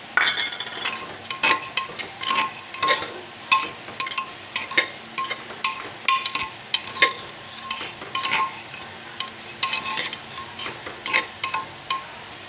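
Rice and dry fruits are fried and stirred in a pot over low heat, a rhythmic series of metal spoon scrapes and clanks over a soft sizzle, close and regular; no speech.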